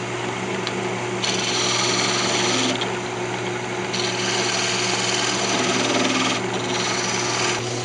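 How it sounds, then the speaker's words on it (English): A wood lathe spins a wooden lamp body while a tool trues up its end, giving a steady, continuous scraping whir with a constant low motor hum and shifting cutting noise throughout. "I'm just going to true up the end here."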